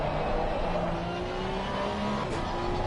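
Porsche Cup race car heard from an onboard camera during a race round, a loud, steady engine drone with shifting pitch as the car holds speed, close and dense.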